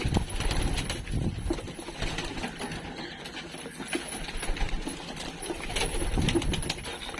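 Pigeons feeding inside a cage, a dense continuous bustle of pecking, shuffling and soft fluttering wings with faint cooing, steady and close throughout.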